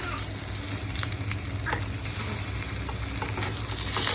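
Eggplant fries in a pan with a constant close sizzle and crackle, joined by light stirring and scraping sounds and no voices.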